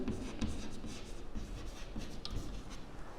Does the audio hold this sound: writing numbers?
yes